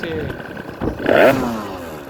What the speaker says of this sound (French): là on voit que ça monte dans les tours quand même